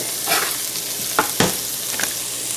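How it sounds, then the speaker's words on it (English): Steady sizzling of chives frying in a pan, a continuous bright hiss with a few stirring scrapes and clicks, close and moderately loud. "into the frying pan they go."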